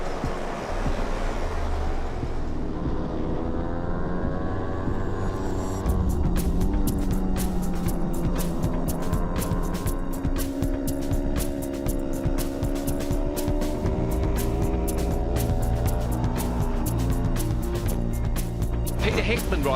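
Racing motorcycles roar away from the start of the NW200 road race, including Peter Hickman's Aprilia, a loud rising engine drone with crackling exhaust that builds after a few seconds as the field gets underway.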